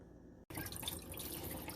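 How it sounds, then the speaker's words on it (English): Running water splashes steadily while sea moss is rinsed, starting after a short pause and continuing close and fairly loud with small drips and sloshes. "So now I'm just rinsing out getting rid of the water"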